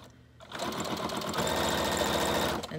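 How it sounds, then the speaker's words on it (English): A sewing machine runs a straight stitch and back stitch while stitching a junk journal made from a box, giving a steady fast mechanical whirr with rapid needle clatter, close and loud, starting after a brief pause. "I'm gonna start here and do a straight stitch, and back stitch,"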